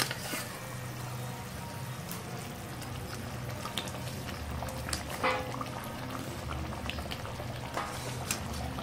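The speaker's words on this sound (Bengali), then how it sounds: "গ্রেভিটা ভালোভাবে ফুটে উঠেছে, এবার আমি মাছগুলোকে অ্যাড করছি।" Gravy for a pabda fish curry simmers at a steady boil in a pan, with a continuous close bubbling hiss and small pops and clinks scattered throughout, no voices.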